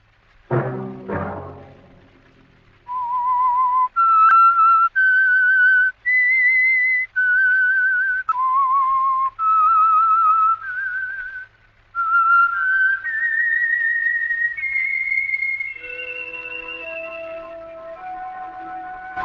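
A clear, melodic whistled tune of sustained notes rising and falling, heard alone and close, with a couple of sharp clicks at the start.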